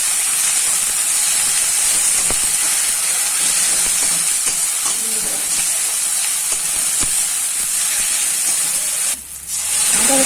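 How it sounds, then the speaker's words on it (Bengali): Onion frying in a pan with ginger-garlic paste and green chillies for a wedding-style pointed gourd and prawn curry: a steady, close broadband sizzle and hiss that holds for the whole stretch and thins briefly near the end. "পেঁয়াজের সাথে এই মশলাগুলোকে ভালো করে ভেজে নেব।"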